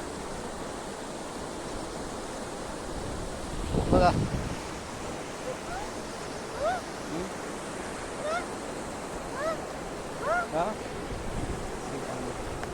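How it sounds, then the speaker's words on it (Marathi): Flooded river rushing after rain, a steady broad wash of flowing water with wind noise, while a person speaks briefly over it and bird-like chirps appear intermittently. "हे बघा किती पाणी आहे आमच्या नदीचं पाणी"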